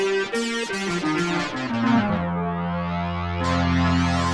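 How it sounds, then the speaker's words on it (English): A Yamaha DX7 synthesizer and the Dexed plugin play a random patch as a descending run of bright, metallic FM notes, ending on a sustained low tone that swells brighter near the end, with no talking. "what you hear are the DX7 in the middle with a random patch and the Dexed left"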